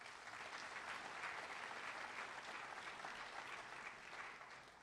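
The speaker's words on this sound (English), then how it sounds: "Let's give these Borlaug scholars a round of applause." Steady, full applause from a banquet audience at a spring agricultural program event, many hands clapping evenly throughout with no break, heard at a moderate distance.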